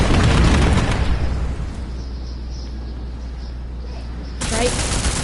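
Explosion and gunfire in the video game Deus Ex: Mankind Divided, a loud dense roar of blasts and rapid shots that eases into a softer rumble before a fresh burst, with a voice faintly underneath.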